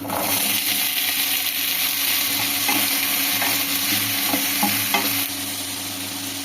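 Steady frying sizzle of cauliflower and potato in a pan, loud and continuous, with occasional soft scraping and stirring clicks throughout.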